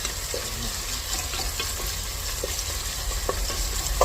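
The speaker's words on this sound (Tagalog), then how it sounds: "Sunod na natin yung ating bawang." Garlic and a generous amount of onion sizzle steadily in hot oil for a spicy mutton biryani, a continuous close frying hiss with occasional soft pops and stirring, no talking.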